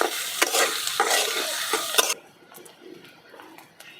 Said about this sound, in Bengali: পেঁয়াজ আর মরিচ আমি একটু হালকা লালচে করে ভেজে নেব